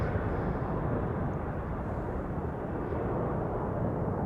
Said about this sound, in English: Departure still very much in progress. I think this is the Dreamliner to Nairobi in Kenya.